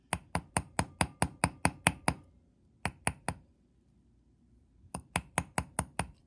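Sharp tapping of a small hammer on wire for beaded chandelier wire-wrapped earrings against a bench block: a quick run of about ten even taps, a pause, three more, then another fast burst of six, close and crisp.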